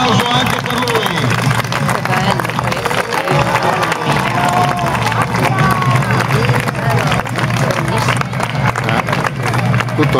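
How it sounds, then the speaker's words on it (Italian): A crowd gives Pandolfo Malatesta a sustained, dense round of applause at close range, with clapping mixed with crowd murmur and voices throughout. "Un forte applauso anche per lui."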